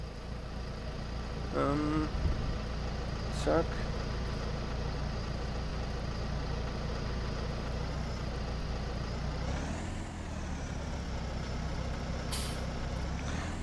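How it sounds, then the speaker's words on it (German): A farm tractor engine starts and settles into a steady, loud diesel idle, with a brief hiss and clatter at the start and someone speaking briefly; used for stacking bales. "dann werden wir den Motor mal starten"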